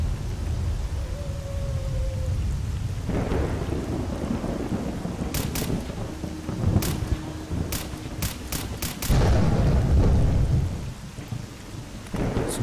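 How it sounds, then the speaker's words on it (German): A thunderstorm with rain in the video game S.T.A.L.K.E.R. Call of Pripyat, with steady heavy rain hiss throughout, deep rolling thunder, and several sharp cracks close together midway. "Wahrscheinlich ist das Gewitter dran schuld."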